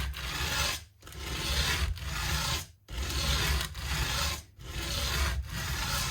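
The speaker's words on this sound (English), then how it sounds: "part of the deal involves working with sandpaper, and the first thing I do is I take down the feet of the" Sandpaper rubbed back and forth on the feet of an adjustable nut on a Taylor Baby acoustic guitar, a steady raspy scraping in long strokes broken by a few short pauses, close and alone.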